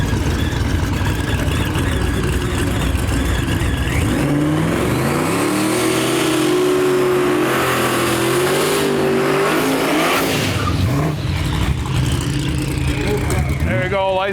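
Drag cars at a no-prep race, a Chevelle SS and a small-tire Mustang, revving loudly up close with rising and falling engine pitch and some tire squeal, with voices talking over the noise.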